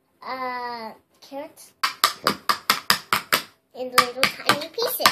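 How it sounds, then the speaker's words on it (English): A knife chops carrots into tiny pieces on a cutting board in a quick run of sharp taps, close by, with a voice before and between the chopping. "Which vegetables are you chopping up right now?"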